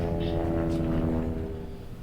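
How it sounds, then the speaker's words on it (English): Helicopter passing overhead in a garden, a steady droning rotor and engine hum with pulsing low tones, loud and continuous throughout. "Helicopter."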